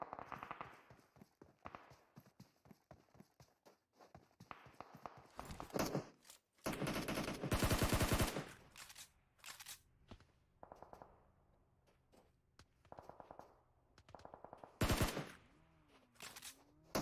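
Rapid automatic gunfire crackles from a battle royale esports match, with several loud sustained sprays between scattered shots and fainter distant bursts.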